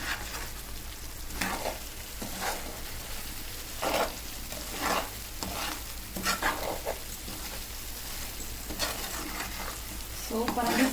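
Chicken frying with masala in a pan, a constant close sizzle with repeated spoon scrapes and stirring strokes every second or so, with no talk.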